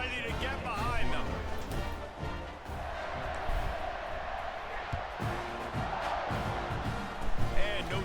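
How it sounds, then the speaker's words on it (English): Stadium crowd roars steadily at kickoff in the College Football 26 video game, a dense, sustained wash of cheering that swells briefly near the end, with a commentator talking over it. "They're set to kick it off, and this crowd now ready to get behind them."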